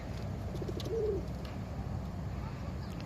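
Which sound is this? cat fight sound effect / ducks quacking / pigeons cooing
pigeons cooing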